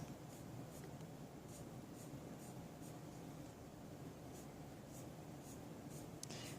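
Colored pencil shading on paper for coloring-book bows and ribbons, a faint steady scratchy rasp with soft repeated stroke pulses close by, continuous and unbroken with no talking.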